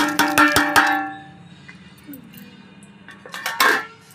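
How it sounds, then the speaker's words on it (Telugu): Dried red chillies and salt pounded into powder in a mortar: several sharp metallic clanks in quick succession, a quieter stretch with faint grinding, then another burst of close, ringing strikes. "దాన్ని మెత్తగా పౌడర్గా దంచండి."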